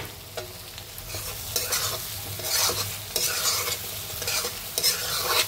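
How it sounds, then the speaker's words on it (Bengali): Potato pieces frying with red chilli powder and spices for chhana dalna, a bright hissing sizzle that swells and recedes as a spatula stirs in uneven strokes, close up with no talking. "এবার আলুগুলো দিয়ে ভালো করে কষিয়ে নেব।"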